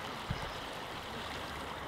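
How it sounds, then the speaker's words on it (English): A small stream in Scotland near Ben Nevis, heard as a steady, close broadband rush of running water that continues evenly throughout, with one brief soft knock near the start. "I found a stream here in Scotland"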